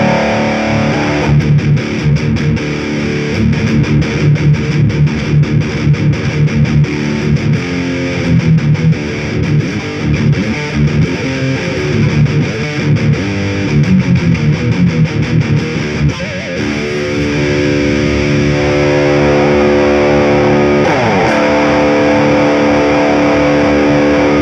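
Heavily distorted electric guitar through a Marshall Shred Master pedal chugs through fast, tight metal riffs, loud and continuous, with a brief change in texture near the end.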